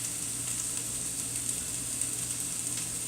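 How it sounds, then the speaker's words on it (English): Green beans sizzling and frying in a hot pan with broken-up onions, a steady bright crackle and hiss that holds at a constant level throughout, close by with no talking. "we're going to go ahead and dump the beans in at this point"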